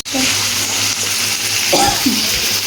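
Chicken pieces frying in a pan in a home kitchen, giving a steady, loud broadband sizzle throughout with a few stirring clatters, while someone speaks over it.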